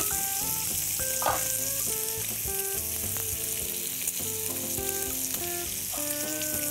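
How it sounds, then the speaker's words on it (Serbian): Bacon sizzles steadily in a frying pan, a soft continuous crackle with occasional stirring, heard under background music with no talking. "Kada je slanina počela da se prži"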